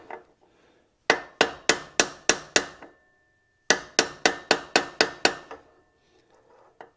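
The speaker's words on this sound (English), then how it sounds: "just lightly tap it to make sure it's driving in nice and straight" A hammer lightly taps a seal into the crankcase of a 1979 Kawasaki KE125A, two close runs of about six crisp, evenly spaced metallic taps separated by a short pause.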